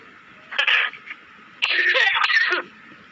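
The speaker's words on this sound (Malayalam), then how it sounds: "എന്താടാ ഒരു ചുമ" Two short coughing bursts close to the mic, the first brief and the second longer and harsher, separated by a pause.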